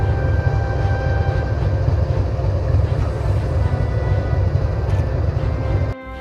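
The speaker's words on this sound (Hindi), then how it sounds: "अपने V12 डीजल इंजन के साथ 4500 हॉर्स पावर वाला ये डीजल लोकोमोटिव इन खेतों के बीच जब पटरियों पर चलता है" A WDG 4G diesel locomotive with a V12 engine runs on a new railway line between fields, giving a loud, continuous heavy rumble that cuts off sharply near the end.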